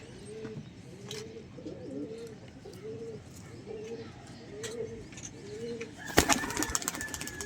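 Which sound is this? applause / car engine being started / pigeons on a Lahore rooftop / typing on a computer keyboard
pigeons on a Lahore rooftop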